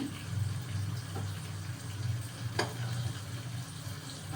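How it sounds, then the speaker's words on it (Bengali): Thinly sliced onion frying with potatoes in a little oil, tilted and swirled in the pan: a faint, steady low sizzle with a couple of soft scraping clicks, no voices. "এই পেঁয়াজটা এখন আলুর সঙ্গে একটু ভেজে নেব"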